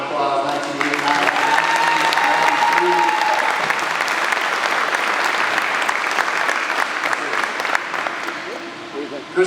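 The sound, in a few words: applause at a hall of fame dinner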